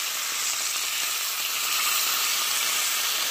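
Woodcock and bacon sizzle in a hot frying pan, a dense, steady crackling hiss that stays close and even throughout with no voices.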